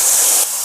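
Water is poured into a hot tempering pan of urad dal, curry leaves and coconut oil, giving a loud, sudden hissing burst of steam that drops slightly in level after a moment.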